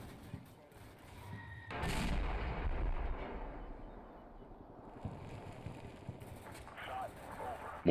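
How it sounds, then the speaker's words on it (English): An artillery barrage in the video game Combat Mission Shock Force 2 lands near an observation post. One loud, booming impact rolls into a long rumbling tail, followed by scattered fainter blasts and crackle at a distance. "another Syrian barrage hits around OP-104"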